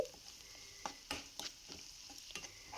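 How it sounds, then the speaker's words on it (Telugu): Ginger garlic paste fries in a pan over a medium flame, a soft, steady sizzle with a few sharp stirring scrapes and clicks spaced through it, no voices. "అల్లం వెల్లుల్లిపాయ పేస్ట్ కూడా పచ్చివాసన పోయేంత వరకు బాగా ఫ్రై చేయాలి"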